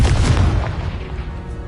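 Booming spell blasts from Bombarda and Confringo in the video game Hogwarts Legacy, a loud, continuous rumbling explosion that swells early and slowly decays over under two seconds.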